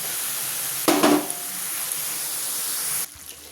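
Masoor lentils drop into pumpkin greens in a hot pan, giving a brief rush of sizzling and rattling over a steady background hiss from the cooking.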